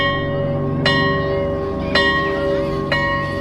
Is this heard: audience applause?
no